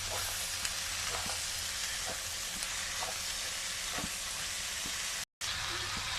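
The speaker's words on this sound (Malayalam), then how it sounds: "ഇനി നമ്മുടെ കഴുകി വൃത്തിയാക്കി വെച്ചിട്ടുള്ള വെളുത്തുള്ളി ഇതിലിട്ട് കൊടുക്കാം" Washed garlic sizzles and fries steadily in oil while being stirred in a pan for a homemade Kerala-style garlic pickle, a constant close hiss with faint scraping, interrupted by a brief gap near the end.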